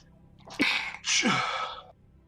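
One person sneezes loudly at close range, a quick intake of breath followed by a sharp, explosive burst.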